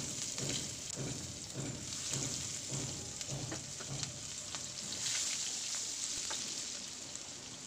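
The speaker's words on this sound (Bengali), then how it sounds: "এখন পেঁয়াজটা একটু তেলে ভেজে নিচ্ছি।" Chopped onions fry in oil left over from frying fish, giving a steady, moderately quiet sizzle with faint rhythmic scraping of stirring in the first half and no voices.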